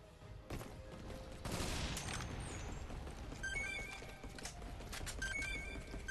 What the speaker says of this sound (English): I think I'll eventually hit it if I just keep firing towards it.